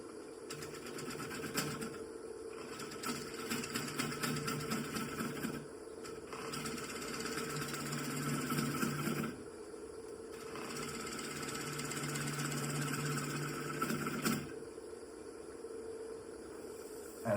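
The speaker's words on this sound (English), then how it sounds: "So I'm gonna start with my skewed scraper here." A skew scraper works the base of an old rounded-bottom wooden bowl on a lathe, flattening it gently; a steady whirring drone with bursts of rougher cutting noise that pause briefly between passes.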